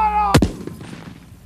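An 1800s Napoleon cannon fires a single sharp, loud blast that rolls off into a decaying rumble, following a brief shouted command.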